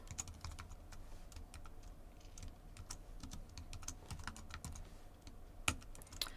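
Quiet typing on a computer keyboard, a steady stream of soft clicks and taps with one sharper keystroke near the end, heard alone with no talking.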